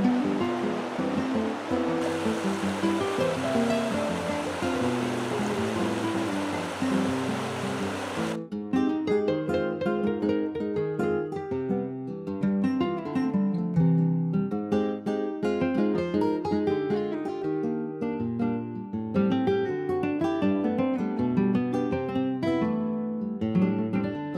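A river flows past a campground, its rushing water sounding as a continuous, even wash with no voices.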